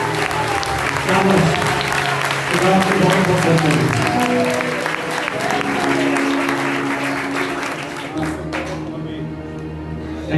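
A church congregation at a healing prayer gathering bursts into loud, sustained applause that fills the hall, with a voice speaking over the clapping before it fades near the end.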